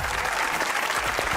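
Audience clapping loudly at a comedy show, a brief burst of dense, sustained applause from many hands with no talk over it.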